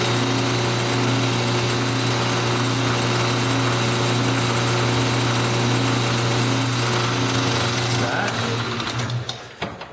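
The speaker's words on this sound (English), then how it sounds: "So before I start turning this down, I just want to chamfer this" A steady powered machining whine with a strong low hum runs continuously as metal stock is chamfered with a Tom Lipton multi-purpose tool on a lathe, then tapers off near the end; no talk over it.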